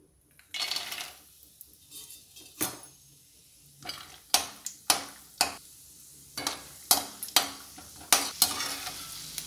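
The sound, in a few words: peanuts frying in oil in a kadai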